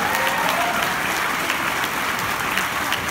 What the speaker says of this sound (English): please, big round of applause for our anime guests of honor for May 2017